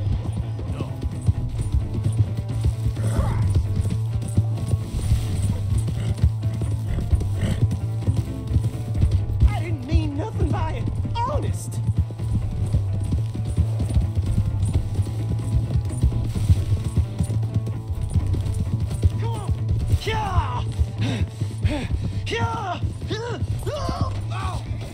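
Horse hooves clip-clopping in the Red Dead Redemption 2 game world, a steady, fairly close rhythm running the whole time over a constant low hum, with occasional voices speaking over it.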